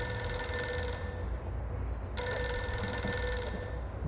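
A telephone on a desk in Reverse 1999 rings continuously with a bright, trilling bell tone, loud and sustained over a faint background, with only a short dip partway through.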